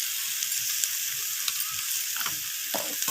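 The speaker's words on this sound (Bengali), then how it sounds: "আদা বাটাটা দিয়ে আবারও একটু নাড়াচাড়া করে কষিয়ে নিচ্ছি" Ginger paste being stirred and sautéed in a pan for a drumstick and flower chorchori, with a steady close sizzle and light scraping stir strokes running throughout.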